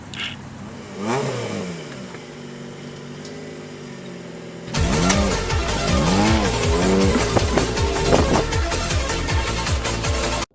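A cheap $700 Honda car engine revs hard during a race, with rising and falling engine pitch and tire squeal, loud and close after a quieter opening stretch.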